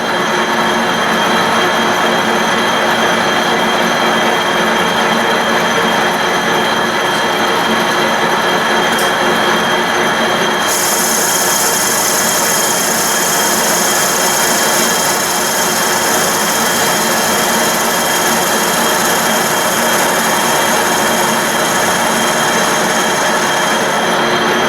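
A metal lathe makes a final finish cut, giving a steady, continuous machining drone that runs unbroken throughout. A high whine shifts in pitch partway through.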